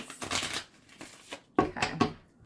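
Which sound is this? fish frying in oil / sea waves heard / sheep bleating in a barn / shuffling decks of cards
shuffling decks of cards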